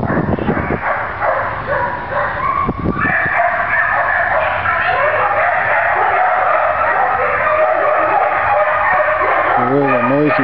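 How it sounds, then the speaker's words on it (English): Many dogs bark and howl together at a county animal shelter's tin-built kennels, a dense, continuous, echoing din heard from outside at moderate distance. "As you can hear, that over there is where all the dogs are kept there."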